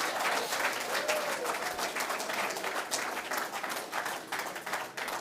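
Audience at a PLP Connects town hall meeting applauds someone speaker, a sustained, fairly distant round of clapping from a sizable crowd lasting several seconds, with a few voices faintly mixed in.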